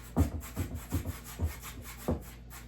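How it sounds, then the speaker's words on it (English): Fruit peel being zested for holiday biscotti, a soft scraping rasp repeated in about five short strokes at an uneven pace, close but quiet. "I'm just going to zest a little bit more"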